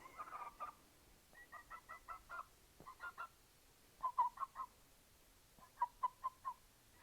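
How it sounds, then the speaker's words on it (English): An unhappy chicken clucks in a workshop, giving short bursts of three to five rapid clucks separated by brief pauses, fairly close and clear, with no talk over it. "Chicken in the shop, chicken in the shop, unhappy chicken"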